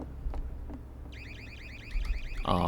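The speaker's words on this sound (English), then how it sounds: "I don't know why the alarm went off regardless" A store alarm in the Garry's Mod video game starts partway through, a repeating warbling electronic siren sweeping up and down against faint background noise, followed by a burst of louder clatter at the end.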